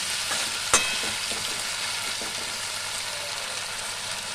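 Mixed vegetables sizzling steadily in a pan, with a sharp clink of a utensil near the start and soft stirring scrapes under the constant close frying hiss.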